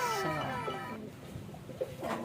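Racing pigeons being loaded for training coo softly in a loft, with overlapping bird calls and some descending whistling tones, moderately close with no talk.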